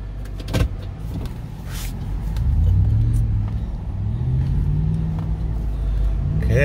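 A Toyota 4Runner's engine rumbles and rises in pitch as it accelerates close by, with a brief clunk near the start and the revs climbing and easing in two swells.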